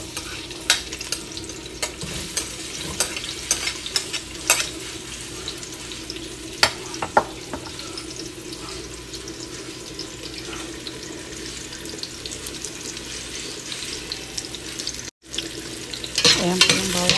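Garlic and onion sauté in hot oil for beer-braised spare ribs, with a steady close sizzle and repeated stirring clacks, and running tap water joins near the end.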